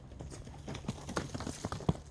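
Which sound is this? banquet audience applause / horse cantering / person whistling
horse cantering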